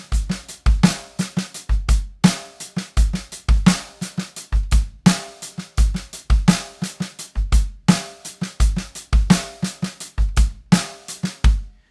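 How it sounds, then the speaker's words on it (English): A steady drum groove with kick, crisp snare backbeats and soft snare ghost notes filling the gaps, looping evenly with no voices. "We are going to be putting some ghost notes on the snare."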